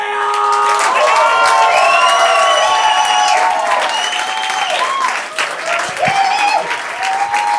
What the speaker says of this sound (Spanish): Fuerte el aplauso para Diego Baleo.